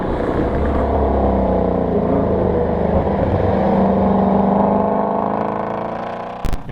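A Ford Mustang GT350 V8 engine runs with a steady, loud, continuous rumbling drone that swells slightly in the middle, then drops away near the end with a brief sharp noise.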